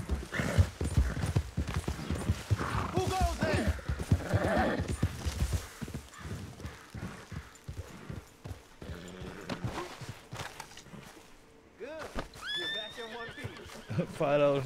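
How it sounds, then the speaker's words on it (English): A horse in Red Dead Redemption 2 gallops with steady drumming hoofbeats, then lets out loud neighs and whinnies near the end, while a player and game characters talk over it. "My horse is a freight train."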